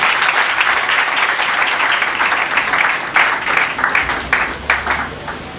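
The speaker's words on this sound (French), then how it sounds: "Applaudissez-moi" An audience at a civil wedding gives a burst of loud, sustained applause that carries on for several seconds before tapering slightly. Many hands clap densely together, close by.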